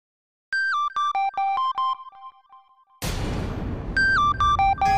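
A synthesized phone ringtone plays a stepping electronic melody, breaks off into a burst of noisy static, then the melody resumes.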